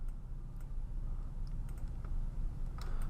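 Computer mouse clicking during digital stamp-tool editing, a few faint, sharp clicks scattered over a low steady background hum, with no voices.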